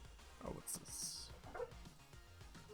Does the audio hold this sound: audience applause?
no